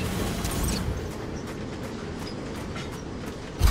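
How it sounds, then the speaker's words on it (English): Train rolling past in the SUPERVIVE video game, a continuous rumbling rail clatter with repeated wheel clicks, fairly loud, ending in a sudden heavier thump. "train incoming!"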